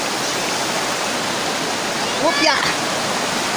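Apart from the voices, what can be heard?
flowing river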